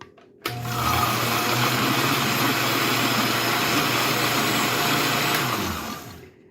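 A blender whizzes cashew cream in one steady, loud burst of motor whine lasting about six seconds, starting abruptly and winding down at the end, with no talking over it.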